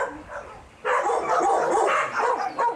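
Dogs barking at a hot, crowded house during an animal seizure in Houston, several sharp barks and yips starting softly, then louder and more insistent, with some whimpering and no talking.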